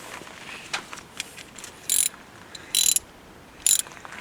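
A ratchet snugs the brake caliper bolts on a Dodge Ram truck with a few soft clicks and then three short bursts of rapid, close-up ratcheting, with no talking.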